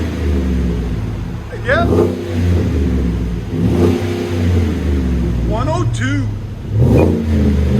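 A 2021 GMC Sierra 3500 HD with a 6.6L gas V8 and a Vibrant Street Power muffler revs in deep, rumbling swells, with several rising throttle blips over a steady idle and people talking close by.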